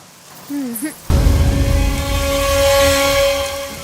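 Steady rain hisses across the clip after a brief voice, with a constant hum running beneath the broadband patter.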